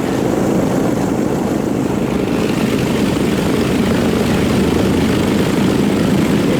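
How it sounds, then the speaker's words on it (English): Loud, steady drone of a firefighting air tanker's large propeller engines running close by, a continuous rumbling roar with no pauses. "Get those engines loping just right,"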